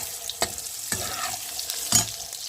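Ginger paste and nigella seeds frying in hot oil for a Bengali pabda fish curry, a steady close sizzle with three sharp spitting bursts as the spices hit the pan, no voices.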